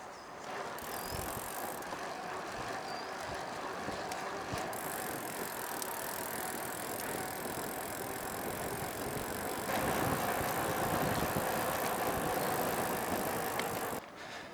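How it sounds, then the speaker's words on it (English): Freewheel of a Carrera Fury mountain bike ticking steadily and close up as the wheel spins, a continuous dense rattling buzz that holds for about fourteen seconds, with no talking. "so just for you, my friend, here's the freewheel"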